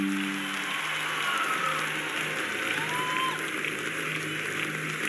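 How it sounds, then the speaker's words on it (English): Church congregation clapping hands together in a sustained, dense wash of applause filling a large hall, steady and even throughout with no break, a faint organ-like tone sitting underneath. "Would you give him a mighty hand clap?"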